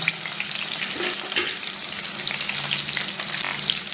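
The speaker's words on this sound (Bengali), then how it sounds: "তারপরে এই যে পেঁয়াজগুলো ফোড়ন দিয়ে দিলাম" Onions fry in a garlic tempering in a hot pan, a loud, continuous sizzle with occasional stirring, close by and with no talk.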